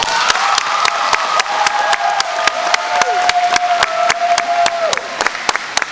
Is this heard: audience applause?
yes